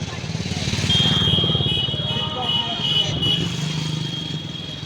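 A motorcycle engine running close by on a busy roadside near Bodh Gaya, a steady moderate drone with a high whine, heard under someone talking.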